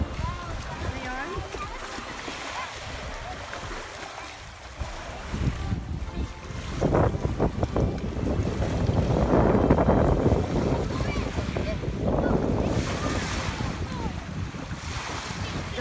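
Waves washing onto the shore at Rotary Cove Beach on Lake Huron in Goderich, Ontario, with gusting wind buffeting the microphone, surf swelling louder midway; people talk nearby.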